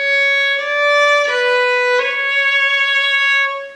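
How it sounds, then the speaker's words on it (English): A single fiddle note ornamented with a Celtic roll played slowly, the bowed tone stepping up, down and back to the main pitch in clear, sustained strokes, played alone and close. "So it ends up sounding like, in slow motion,"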